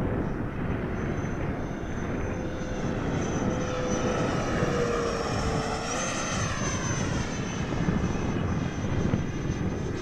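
An E-flite SU-30 RC jet makes a slow pass. Its steady ducted-fan whine stays continuous and fairly even for the whole stretch, with a rising and shifting tone as it moves past. No voices are heard.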